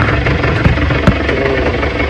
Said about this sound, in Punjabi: ਮੋਟਰਸਾਈਕਲ ਆਪਾਂ ਕਰ ਲਿਆ ਸਟਾਰਟ